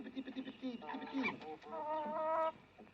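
Hens cluck close by in a farmyard, a short run of rising, warbling calls that swell near the end.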